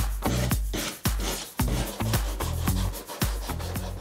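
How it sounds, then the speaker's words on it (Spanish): Hand sanding of sharp corners on wooden slats for a wooden room divider, heard as repeated close rubbing strokes in a steady back-and-forth rhythm, with brief sharp knocks between passes and no talking. "voy a lijar todas las esquinas de estos listones porque están muy filudas"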